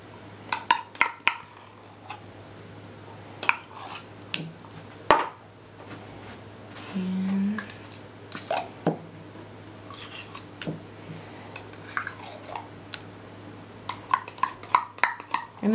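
Canned tomato paste, two 6-ounce cans' worth, spooned into a bowl for homemade ketchup: repeated close, sharp clinks and scrapes of a utensil against can and bowl, in irregular bursts with no talking.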